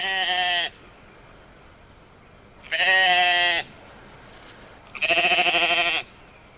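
Sheep bleat three times in drawn-out, wavering cries, each about a second long with pauses between, close and clear with no other sounds.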